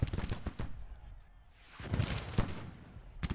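Artillery and musket fire from a Civil War strategy game: several sharp, fairly loud shots and booms come at irregular intervals, with a quieter lull in the middle.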